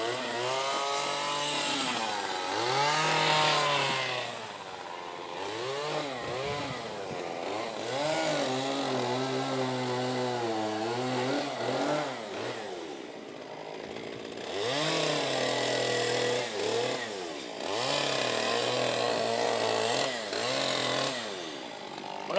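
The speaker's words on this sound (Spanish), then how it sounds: "Nos vamos a callar unos segundos para que escuchen ese rugir de la motosierra." A chainsaw roars through wood at a live carving exhibition during the San Fermín festival in Pamplona, its pitch rising and falling in repeated bursts as the cuts bite and ease.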